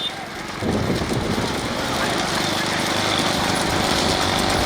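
Loud, rough motorbike engines roar and rattle continuously close by at a race in Chinnamanur, with a crowd's voices mixed into the din.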